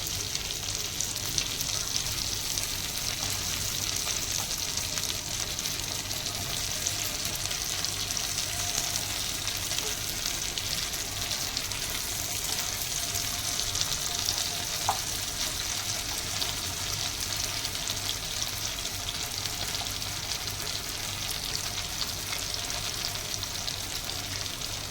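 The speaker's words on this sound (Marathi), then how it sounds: "तर आपण वन साईड 2 ते 3 मिनटं फ्राय होऊन देऊया" Malai chicken tikka pieces fry in a pan with a constant, even, close sizzle that holds steady throughout, with no voices.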